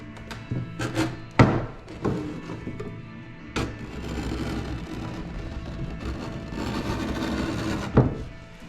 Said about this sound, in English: So it's all varnish scraping right off.